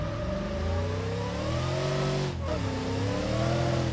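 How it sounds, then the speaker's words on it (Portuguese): A prepared truck in the BeamNG.drive video game has its engine started and revved, a continuous loud engine drone whose pitch climbs, dips briefly, then rises again. "primeiro tem que ligar o motor, né?"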